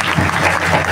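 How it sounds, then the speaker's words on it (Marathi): An audience at a kirtan gathering claps loudly and continuously in a brief, dense burst of applause. "त्याच्यासाठी एकदा जोरजोरात टाळ्या वाजवा बरं का"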